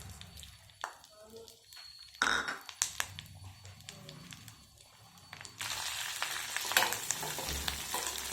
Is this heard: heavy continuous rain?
no